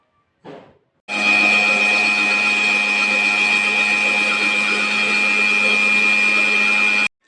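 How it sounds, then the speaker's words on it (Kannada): Kitchen mixer grinder whirring loud and steady for about six seconds as it grinds heated spices for sambar, after a brief short burst at the start and an abrupt stop at the end. "ಈಗ ನೋಡಿ ಸ್ವಲ್ಪ ಮಿಕ್ಸರ್ ಮಾಡಿದ್ದೀನಿ"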